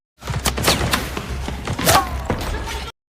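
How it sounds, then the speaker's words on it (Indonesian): A rapid burst of gunfire with sharp cracks and thuds, dense and chaotic, ending abruptly. "mendapatkan tembakan secara beruntun"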